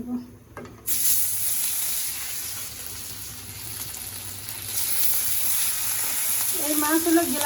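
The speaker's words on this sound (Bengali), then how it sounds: "এখন এই মাছও ভেজে নিব।" Taki fish going into hot oil in a pan, a sudden burst of sizzle after a quiet moment, then continuous crackling frying that swells slightly, with a short voice near the end.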